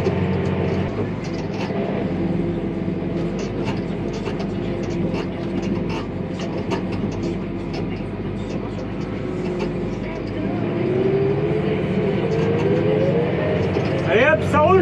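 A tractor pulling a trailer drives during a corn silage harvest, giving a steady, loud engine rumble and rattle throughout, with a voice briefly heard near the end.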